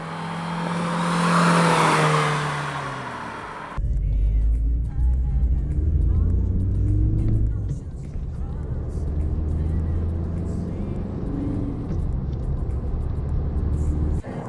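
A Ford Aspire diesel sedan drones from inside the cabin at higher revs, a low steady engine hum running continuously after an opening burst of louder broadband noise.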